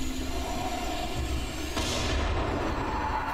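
A loud explosion from the Dying Light video game during a co-op session, a dense low rumbling roar that swells sharply midway and sustains as a thick, noisy blast with crackling debris.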